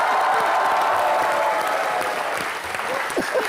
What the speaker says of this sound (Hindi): श्रद्धा, सिद्धार्थ और रितेश के लिए जोरदार तालियां।